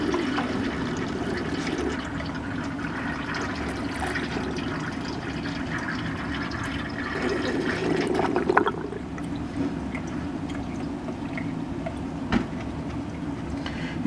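Water draining out of the tank of a Vevor KZ-F15 15-liter ultrasonic cleaner, a steady gurgling rush with a burst of sloshing near the end and a short splash after, with no speech.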